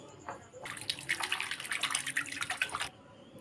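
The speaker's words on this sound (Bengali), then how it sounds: "আঙুরগুলো খুলে ধুয়ে নেব" Grapes being rinsed in a bowl of water, a steady splashing and trickling that swells for about two seconds before stopping, close and fairly loud with no voices.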